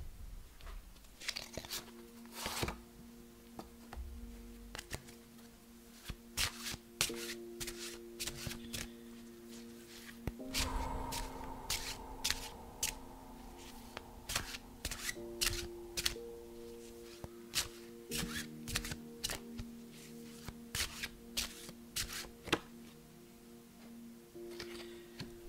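Tarot-style cards are shuffled and handled for a card reading, a long series of soft riffling bursts and sharp flicks with papery rustles between them, close and quiet, with faint background hum and no talk.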